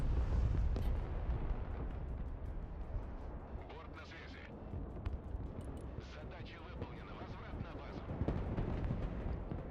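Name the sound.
mortar artillery fire in a video game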